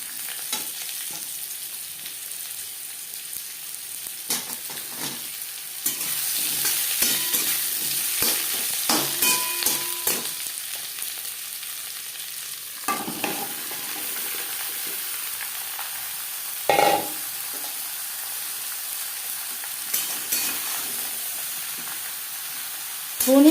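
Bottle gourd (lau) stirred into hot oil with cumin and green chilli tempering: a continuous sizzle and hiss with intermittent scraping and clinking of a spatula against the pan, heard alone and close.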